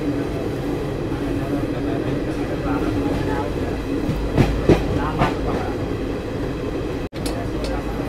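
Garib Rath Express train pulling away from a station after a long halt, a steady low rumble of wagons rolling with faint rail clatter and a few brief knocks and squeals, heard close from inside the train.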